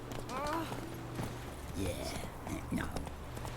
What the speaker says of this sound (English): Can actually grab our horse here.